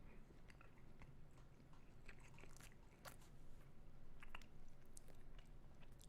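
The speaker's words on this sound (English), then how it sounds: "Sorry for the chewing." Someone chews food very close to a microphone, with crunchy biting and wet mastication repeating steadily over a quiet background hum, no talking.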